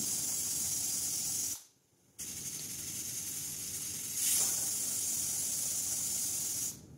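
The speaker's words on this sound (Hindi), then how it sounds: "दो सीटी मीडियम आंच पे दो सीटी आने तक इसे पकाएंगे" Steady, loud steam hiss from a pressure cooker cooking rajma on medium heat, with a brief cutoff partway through before the hissing resumes and continues.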